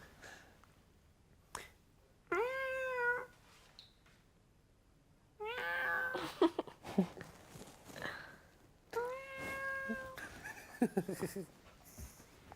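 A person imitates a cat's meow on a French reality TV show set: three drawn-out, wavering meows separated by pauses, close and fairly loud over a quiet room with faint footsteps.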